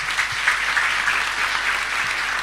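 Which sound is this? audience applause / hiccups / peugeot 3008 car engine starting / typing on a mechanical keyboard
audience applause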